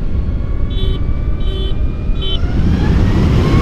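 A LiveWire One electric motorcycle pulls hard at full throttle from about 30, its steady electric whine rising in pitch as road and wind roar build; a few short horn-like tonal blips sound early on.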